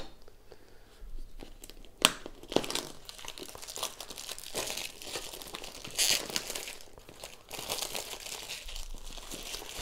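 Plastic wrap crinkles and crackles as it is torn off a DJI Mic box, close and fairly quiet, with sharper rips near the two-second mark and around six seconds and steady rustling in between.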